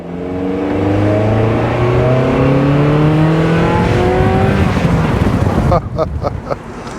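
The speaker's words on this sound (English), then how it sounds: "left foot on the brake, right foot to the gas, 2000 RPM, and let's go" A Mazda Miata engine revs to about 2000 RPM and launches loudly, pitch climbing through several gear shifts as it pulls away, ending in rougher, choppier engine noise.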